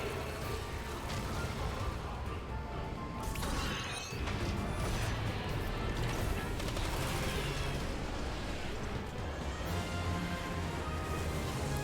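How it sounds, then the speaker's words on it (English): Salvo missile fire in a Final Fantasy XIV boss fight comes as rapid mechanical bursts, thuds and crashes. It is dense but fairly faint, with a brief dip partway through. "Target in sight. Pin it down with salvo missiles."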